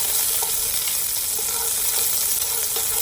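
Shallot and garlic sizzle loudly and steadily in a pan while being stirred, a dense continuous frying hiss up close with a few faint scraping touches, for a Vietnamese pork braise with bamboo.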